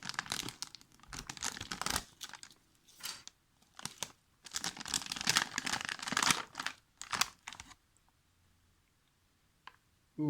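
A packet of grape electrolyte carbohydrate drink mix from a US military MRE is torn open, with loud crinkling and rustling plastic in close bursts, then near silence and a final short crackle.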